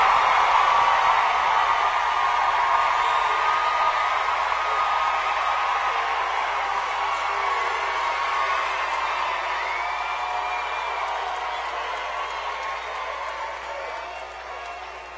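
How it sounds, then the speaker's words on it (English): Audience applause for the graduating Kings Fork High School class of 2017 at their ceremony, a dense crowd clapping with scattered cheers and whoops, loudest at first and slowly tapering off over fifteen seconds. "Let's give another round of applause for the graduates of the class of"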